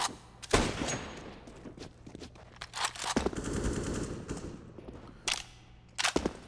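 Rapid AK rifle fire in a Counter-Strike match on Mirage, with several sharp close bursts and scattered single shots across the span, some louder and nearer than others, and no talk.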